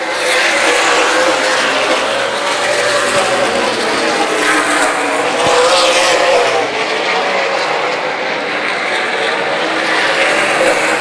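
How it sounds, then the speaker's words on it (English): Race cars of the Main Event Racing Series roar through turns one and two at Dixie Motor Speedway, a loud, sustained engine drone from several cars close together. "Top 3 cars go careening through turns 1 and 2."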